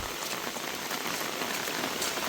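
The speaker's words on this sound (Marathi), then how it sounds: "पाऊस जाम आला" Heavy rain pours steadily on a farm at the edge of a forest, a dense, continuous hiss of drops striking surfaces close by with no let-up and no voices.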